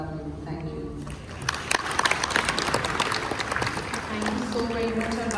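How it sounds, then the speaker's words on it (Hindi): Applause from a film festival audience rises and continues, dense and lively, with a voice speaking before it and again at the end. "तालियां"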